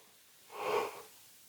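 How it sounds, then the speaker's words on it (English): A single person's yawn, a soft, breathy swell that rises and fades over about half a second, heard close and quiet with no speech around it. "For some reason, I've started yawning like fuck."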